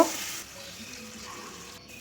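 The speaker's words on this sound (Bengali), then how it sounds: "মশলার জল দিয়ে ভালো করে এই মশলাটাকে কষিয়ে নেব" Spice paste with chili powder and water sizzles and hisses steadily in a pan as it is sautéed and stirred, a close, continuous frying sound with no talking.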